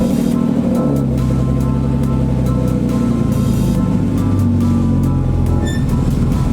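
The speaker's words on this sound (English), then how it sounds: "So here we go, the long-awaited cold start" A car engine cold starting and then idling, a loud, close, steady low drone with a smooth, even hum that holds for several seconds.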